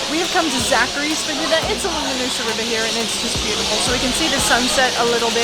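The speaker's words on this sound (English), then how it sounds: "That noise you can hear is about 1 million rainbow lorikeets nesting for the evening" A huge flock of rainbow lorikeets settling in for the evening along the Noosa River at sunset, a dense continuous chorus of shrill chattering and screeching under a person talking.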